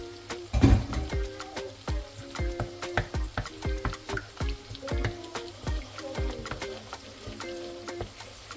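Six beaten eggs frying in a pan for fried rice, giving a steady sizzle broken by repeated scraping and stirring strokes in an irregular rhythm, close and fairly loud, with no talking.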